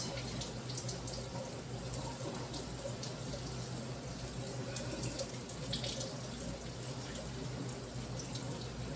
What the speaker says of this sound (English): I'm just going to rinse it in cold water.